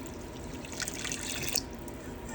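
Warm water pours into a mixing bowl already holding sugar, salt and oil for a dough, giving a short, continuous splashing trickle at close range.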